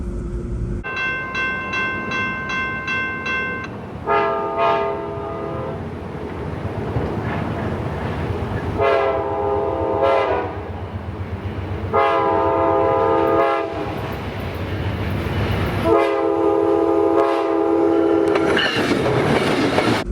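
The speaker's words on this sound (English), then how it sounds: "that's one of those Amtrak trains that you can see like rolling over cameras on the tracks" An Amtrak train rolls past on the tracks in New York, sounding several long, loud horn blasts in a steady series over a continuous rumble of wheels and rail noise, with no voices.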